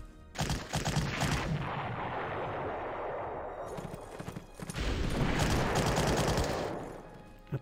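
Artillery fire in the video game Panzer Corps: two long rumbling barrages of rapid, overlapping thuds, separated by a brief dip and ending on a single sharp report.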